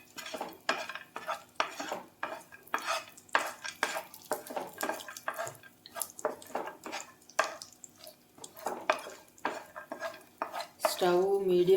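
Cashews and almonds roasting dry in a pan over medium flame, stirred with a utensil that clinks and scrapes against the metal in quick, irregular strokes, close and fairly quiet, with no talking.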